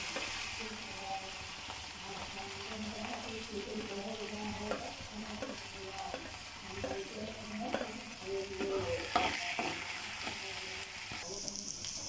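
Green chillies and chopped onion sizzle steadily in oil with frying lentils while a spoon scrapes and stirs the pan, close and continuous, with brief talk in the background.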